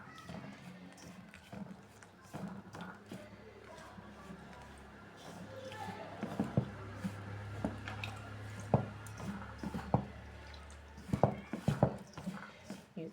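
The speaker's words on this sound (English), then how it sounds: "You add water gradually." Water gradually worked into soft bun dough made from 500g flour, giving wet squishing and slapping sounds that grow louder and more frequent as mixing goes on, close by with no talk.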